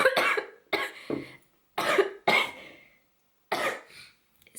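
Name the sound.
coughing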